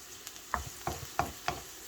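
Short scraping clatters of a utensil stirring carrots sautéing in a pan, about four distinct strokes over a soft background hiss.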